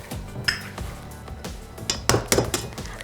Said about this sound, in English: And I'm just gonna add in 3 eggs.